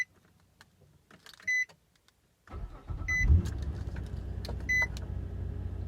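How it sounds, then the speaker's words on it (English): A car engine starts after its battery has been charged: quiet shuffling first, then the starter catches and the engine settles into a steady, fairly loud idle. "let's start the car now that the battery has been charged."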